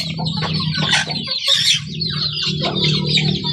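A hen laying an egg clucks and squawks continuously up close, loud and agitated, with rising cackles and no talking.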